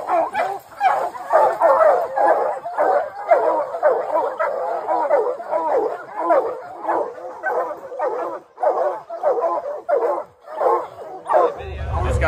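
Hunting hounds bay and yip continuously at a bear treed in the woods, a dense, overlapping chorus of barks from several dogs at moderate distance, ending with a sudden close rumble.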